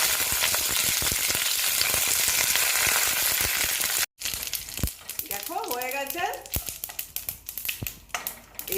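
Curry leaves hit hot oil and burst into a loud, crackling sizzle that then settles into uneven popping and spattering, with light stirring or rustling sounds near the end.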